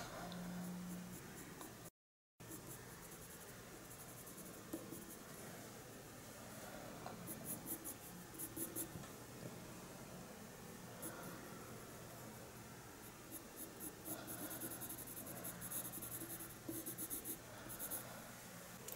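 A colored pencil shades feathers on paper with faint, steady scratchy strokes, soft and close, continuing throughout with a brief gap near the start.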